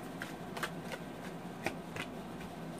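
A Tarot of the Tattoo Age deck being shuffled by hand, giving a run of close, soft riffling bursts in an irregular rhythm with a few sharper snaps, heard alone in a quiet room.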